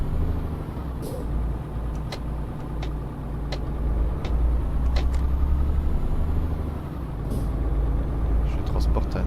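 Truck air brakes in a driving video game hiss in several short sharp bursts over a low rumbling engine drone, with speech audible underneath.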